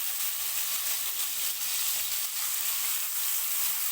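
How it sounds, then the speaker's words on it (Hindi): Onions frying lightly in a pan, a steady close hissing sizzle that runs continuously without talk. "प्याज को हमने हल्का सा फ्राई करना है।"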